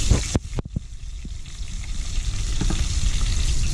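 Garlic hits a little hot oil, opening with a few sharp clinks and bumps before a sizzle that builds and grows steadily louder.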